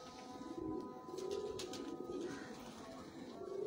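Pigeons coo steadily and close by in a loft at Bhikhi, Sheikhupura district, low rounded calls overlapping throughout with a few faint chirps above them.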